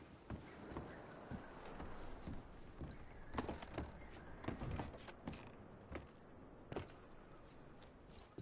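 Quiet hoof clops and thuds of horses shuffling and stepping nearby in the video game Red Dead Redemption 2, irregular and faint, with occasional wooden knocks.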